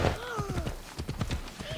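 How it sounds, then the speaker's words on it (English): A horse in Assassin's Creed Odyssey gallops with rapid, rhythmic clip-clop hoofbeats and whinnies briefly at the start, close and fairly loud. "When you whistle your horse, if you're running along as you do so, when the horse gets to you, you automatically mount the horse."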